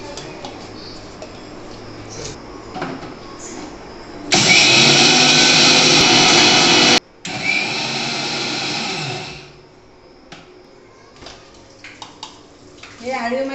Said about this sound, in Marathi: आता हे मी बारीक करून घेते